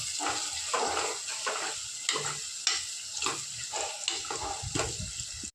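Chopped onions frying in oil with a pinch of asafoetida for mutton gravy, a close crackling sizzle broken by repeated spatula scrapes and stirs in an uneven rhythm, no talking.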